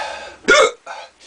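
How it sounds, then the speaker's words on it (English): One forceful, close hiccup jolts out of someone who has just eaten a fiery 7 Pot Brown Pod chili pepper. Softer, breathy sounds come before and after it. "As you can see, some pretty intense hiccups coming off of them."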